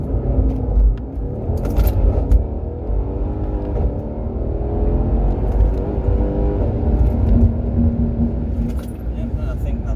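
A modified-exhaust Mercedes C63 AMG W205 4.0 launches from a standing start in Sport Plus mode, a steady loud low rumble rising through the revs as heard from inside the cabin.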